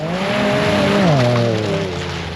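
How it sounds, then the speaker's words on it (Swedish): A turbocharged snowmobile engine revs loud and close in extreme cold, rising and then dropping in pitch over a couple of seconds with a strong, steady drone and no talk. "Måste prova turbon att den funkar."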